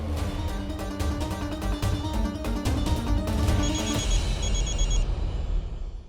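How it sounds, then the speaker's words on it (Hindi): A phone rings with repeated electronic trills over background music, fairly close, no voices. "आपके लिए मधु जी का फोन आया।"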